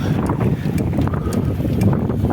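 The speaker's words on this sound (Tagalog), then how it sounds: "malakas yung headwind dito." Strong headwind while cycling along an open boulevard with few trees, a loud continuous low buffeting roar of wind across the microphone, steady throughout with no talking.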